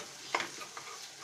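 Egg stirred with onions in a hot pan, a short burst of faint sizzling with a couple of quick spoon scrapes and no talking.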